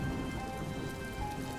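Steady rain pours through a stormy night, a dense, continuous wash of drops close by with a faint low rumble underneath and no voices.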